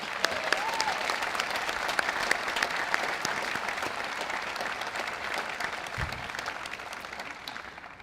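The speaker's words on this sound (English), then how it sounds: "class of 2013, please join me in a round of applause for our families" Law school graduates at a hooding ceremony give their families a round of applause, a large hall filled with sustained, even clapping from many people that carries for the whole eight seconds and tapers slightly at the end.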